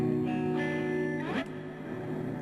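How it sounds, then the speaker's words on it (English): A sustained electric guitar chord rings through a Fender Cyber-Twin amp's heavy, washing reverb, with a bending slide note, the tail lingering long and dense. "It's an extremely long reverb."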